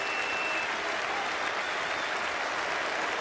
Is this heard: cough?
no